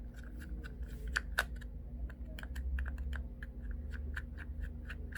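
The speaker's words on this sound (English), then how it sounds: "I will open all the screws here using the Phillips screwdriver." A Phillips screwdriver works the small screws out of a Samsung Galaxy S8 Active phone, giving quick, crisp clicking ticks in an irregular run over a low steady hum.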